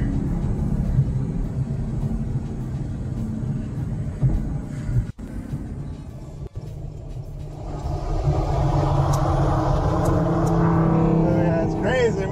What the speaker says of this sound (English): This is a Hellcat, baby.